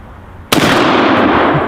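A single loud .375 H&H Magnum rifle shot fired at a bowling pin, a sharp blast at close range followed by a long ringing outdoor echo and decay.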